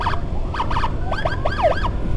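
An ambulance siren on a red-code patient escort from Banjar Patroman, close and loud, its rising and falling wail repeating in quick cycles over steady road and engine rumble.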